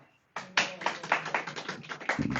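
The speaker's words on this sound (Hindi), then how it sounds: "जोरदार ताली दो इनके लिए।" A small group claps for Vikarna during a Hindi Bhagavad Gita chapter 1 lecture: dense, fairly close applause starts abruptly after a short quiet and runs steadily for about two seconds.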